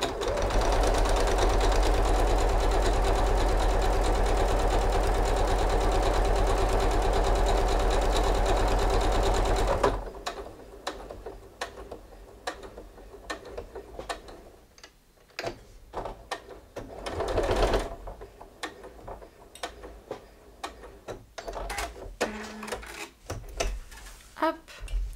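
A sewing machine topstitches fabric 2 mm from the edge, running in one loud, continuous rapid whir for about ten seconds, then stopping; scattered clicks, rustles and handling noises follow.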